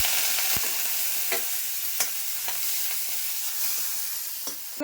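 Steady crackling sizzle of dried fish frying in hot oil, with occasional sharp scrapes and clicks of a utensil stirring, no voices.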